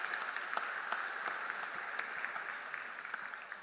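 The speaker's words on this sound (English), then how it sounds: "Yes, give them a round of applause." An audience at a science awards event applauds, a steady dense clapping that fills the room from start to finish with no pause.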